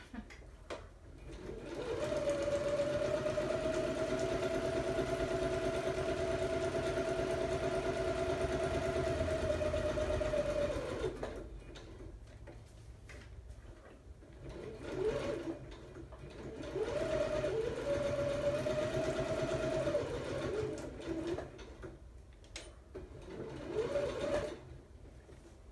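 A home sewing machine stitching fabric, its steady motor hum running unbroken for several seconds, then stopping and restarting in shorter bursts, close by and moderately loud.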